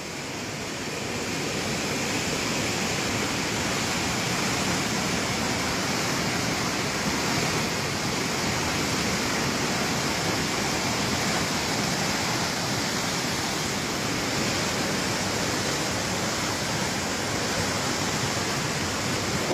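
A steady, loud roar of rushing flood water fills the whole stretch without letup, broadband and continuous like a torrent close by.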